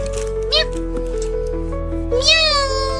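A stray kitten meows close by, one short meow early and a longer, rising meow near the end, over a steady low background hum with a voice speaking.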